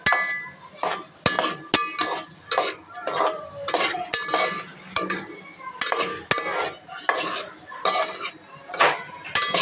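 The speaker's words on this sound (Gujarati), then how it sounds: "હવે જો આપણે મિક્સ કરી લેશું." Onions being stirred in a pan for pakoda, a spoon scraping and clinking against the metal in repeated bursts with short pauses, close and fairly crisp, with a faint sizzle underneath.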